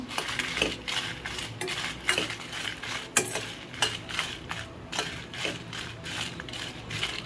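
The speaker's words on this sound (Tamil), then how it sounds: "சில்லி போட்டு நல்லா ஃப்ரை பண்ணலாம். மீடியம் ஃப்ளேமில் வச்சு வறுத்து எடுக்கலாம்" Chilli flakes being dry-roasted over a medium flame and stirred in a pan, heard as a rapid series of dry scraping and clinking strokes against the metal, close and moderately quiet with no talk.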